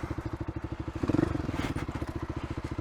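A motorcycle engine putters close in first gear with a fast, steady pulsing thump while riding a rough ridge trail, with a brief surge and some clatter of rocks midway.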